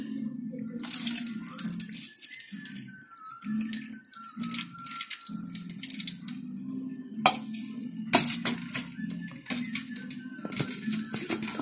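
Water splashes and pours while a small Gopal idol is bathed indoors after sandalwood paste, in soft broken bursts of trickling and splashing over a low steady hum.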